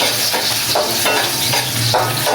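Chicken and pork adobo cooking in a pan gives a loud, close, constant sizzle, with rhythmic stirring strokes of a utensil against the pan.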